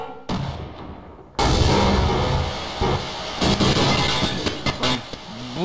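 An explosion in the video game Half-Life Uplink bursts in abruptly after a short quiet stretch, followed by loud noisy rumbling and scattered sharp thuds and crackles.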